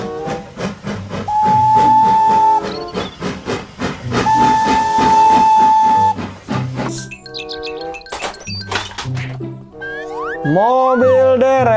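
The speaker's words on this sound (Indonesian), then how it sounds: "Kereta Thomas" Rhythmic chuffing of a Thomas the Tank Engine steam train with two long, clear whistle blasts, followed by more puffing and musical tones.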